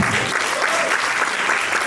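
An audience applauds steadily after a talk, a dense, even clapping from a crowd that continues throughout the short stretch.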